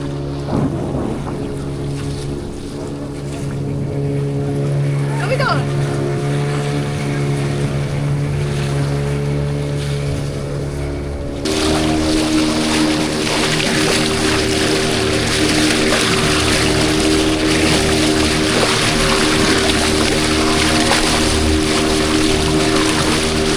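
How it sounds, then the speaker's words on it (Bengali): Motorboat cruising at sea off Goa, its engine droning steadily with wind and water rushing past; partway through, the engine and water noise jump louder and stay loud to the end. "ভাই তো বোট আপাতত ছেড়ে দিয়েছে"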